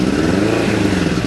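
A misfiring motorcycle engine fires up after a little choke, its loud, close, rough idle pulsing unevenly throughout the short burst.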